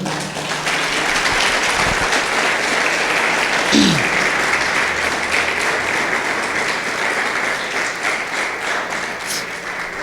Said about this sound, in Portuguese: Vamos aplaudir o Senhor por essa palavra?